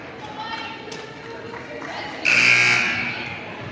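A loud electronic buzzer sounds for about a second partway through a girls' high school basketball game, rising sharply over an indoor crowd murmur and fading slowly.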